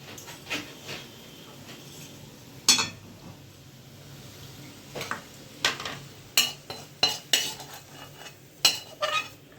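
A metal spoon clinks and scrapes against a bowl as garlic fried in ghee for a Gujarati tempering is transferred, a series of sharp close knocks and scrapes, louder and more frequent toward the end.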